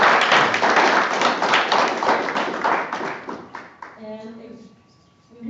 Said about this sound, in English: so I'll give a round of applause for these kids.